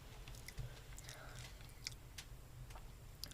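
Faint, close chewing of undercooked rice with crunchy onion, soft irregular crunches and clicks over a low background hum.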